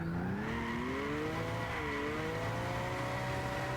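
An HKS Silvia S15 held flat out in fourth gear in Gran Turismo 6, its engine a steady, sustained high drone with rising and gently wavering pitch and faint tire noise, continuous throughout with no talk.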